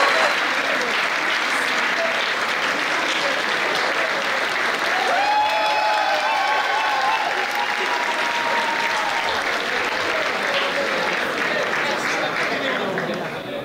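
Loud, sustained applause from a gala award ceremony audience at a university campus festival, steady throughout as a winner is called to the stage, with some crowd chatter and brief whistles mixed in.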